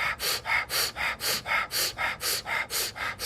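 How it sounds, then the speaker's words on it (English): Fire breath breathing exercise: a steady series of about eleven quick, forceful breaths in a regular rhythm, close and fairly soft, each a short airy rush with no talking. "Let's do a fire breath."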